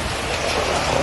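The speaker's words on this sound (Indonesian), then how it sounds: "Hujan deras disertai angin kencang terjadi di kawasan barat Lamongan" Heavy rain driven by strong wind in western Lamongan, a dense, loud, unbroken hiss with no gaps over the whole short stretch.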